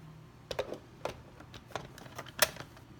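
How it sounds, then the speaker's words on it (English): The lid goes back onto a blender with a few sharp, close clicks and taps spaced about half a second apart, the last one loudest, over a quiet room. "And I'm going to put the top back on the blender."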